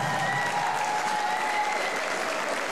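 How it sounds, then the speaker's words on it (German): Sustained applause from a concert audience at a Popschlager show, a dense continuous wash of clapping filling the hall at steady loudness with no break. "nochmal einen riesen Applaus für den jungen Mann an der Technik"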